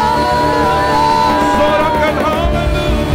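Church congregation at a worship service shouting and cheering in praise to God, a loud mass of voices whooping together over sustained music, short and energetic.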